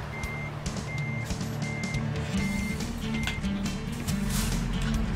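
A truck in American Truck Simulator sounds its reversing alarm, a steady series of evenly spaced single beeps repeating about once a second over a low engine rumble.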